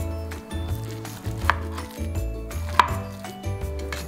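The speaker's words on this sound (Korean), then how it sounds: "근데 제가 좀 단단하게 해서 충분히 물기가 없긴 한데 적당한 크기로 잘라주세요" A knife cuts firm, pressed tofu on a cutting board, giving steady rhythmic chops with a couple of sharper knocks, close and clear with no talking.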